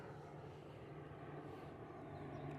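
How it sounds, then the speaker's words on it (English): A propeller airplane passing overhead outdoors, a steady low droning engine hum that holds at a moderate distance throughout, with no talking. "I can hear a plane passing by."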